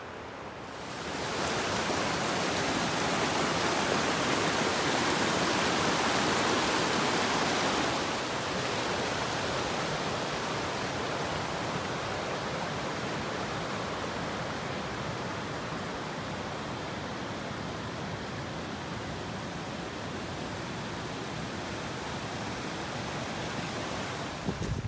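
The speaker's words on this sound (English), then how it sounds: "I'm catching my first glimpse of the river. Looks pretty steep, and it's moving some water." A steep mountain river on a hiking trail rushes with a loud, steady broadband roar of churning whitewater, constant throughout and heard alone.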